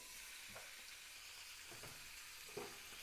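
Beef chunks sear in a hot pan with a steady, loud sizzle throughout, punctuated by a few soft stirring scrapes.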